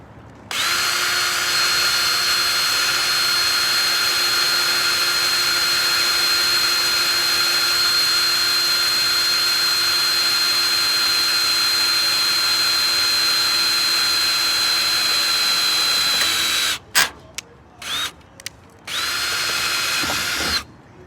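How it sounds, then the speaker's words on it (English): A power drill whines steadily and loudly for a long stretch, boring through the metal roof of a 1964 Ford Econoline van, then stops and starts in a few short bursts. "That's how long it takes to drill a hole through an old 1964 Ford Econoline roof."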